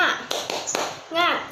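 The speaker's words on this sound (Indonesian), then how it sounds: "yuk kita tepuk semangat" A few sharp taps of children clapping the rhythmic 'tepuk semangat' spirit clap in a classroom, brief and close, followed by a short voiced call.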